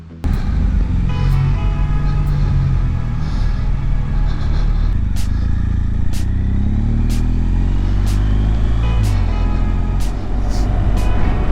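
Motorcycle riding along the Cherohala Skyway toward Tennessee on a warm winter day, with a BMW RT ahead; a steady, loud engine drone and wind rumble continue throughout, rising and falling with the ride, with faint clicks above.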